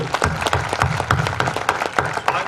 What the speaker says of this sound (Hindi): मुझे एक बार ताली बजा के आदेशित कर दीजिए